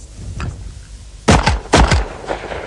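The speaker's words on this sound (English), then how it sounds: "that's how a Benelli shotgun shoots and aims by itself." Benelli shotgun fired in an exhibition-shooting setting: two sharp, loud blasts about half a second apart, each with a quick decaying tail, after a quieter stretch of faint rustling.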